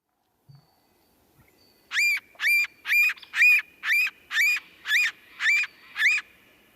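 A recorded sapsucker gives its squeal series call in a forest setting, nine evenly spaced nasal, gull-like squeals in a row after a brief quiet start, clear and fairly close with no talk.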